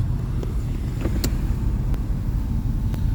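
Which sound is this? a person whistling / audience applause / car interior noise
car interior noise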